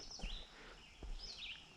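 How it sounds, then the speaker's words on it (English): Birds sing faintly in a forest along a walking trail, a few high chirping phrases rising and falling against quiet outdoor ambience. "You can listen to all of those birds."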